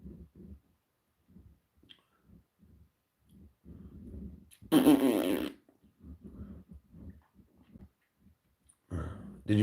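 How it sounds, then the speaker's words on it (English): A single loud, raspy fart bursts out for under a second in the middle of quiet, muffled talking, with another short blast near the end. "farting out loud"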